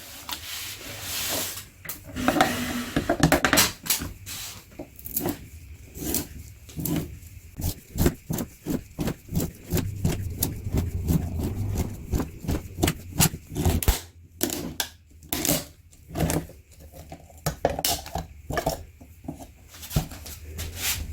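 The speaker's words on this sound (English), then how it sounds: "let's open this filter up and see what it looks like" An ACDelco PF63 oil filter from a 2023 GMC Yukon 5.3L being cut open, giving a long run of rapid rasping, scraping strokes with short pauses, close and fairly loud, with no talk.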